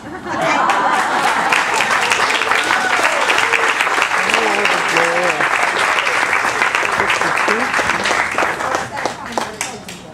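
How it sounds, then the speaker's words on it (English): Applause at a 90th birthday party, a dense, steady round of clapping from the crowd lasting several seconds, with voices and a little laughter mixed in. "Another round of applause."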